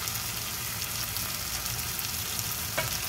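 Kangkong frying and browning in a pan for adobo gives a steady, close, dense sizzle that runs throughout, with a faint clink near the end.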